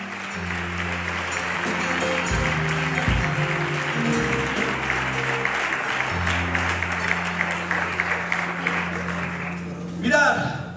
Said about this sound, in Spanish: ¿Le das un aplauso al Rey?